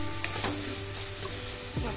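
Tomato goes into frying onion in a pan, giving a steady close sizzle with a few light stirring clicks over a low background hum, heard alone for a brief moment.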